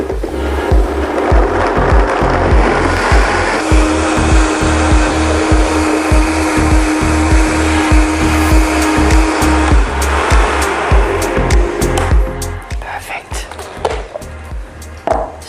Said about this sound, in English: We want to blend this so it's completely smooth and creamy